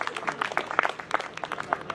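A crowd claps for a comic poet at a Hindi poetry festival stage event, a brief burst of dense scattered applause at moderate level with some faint voices mixed in.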